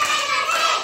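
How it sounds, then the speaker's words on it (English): Children in a classroom circle-time lesson clap together for a classmate, a brief, dense burst of hand claps close by. "Stop clapping, enough."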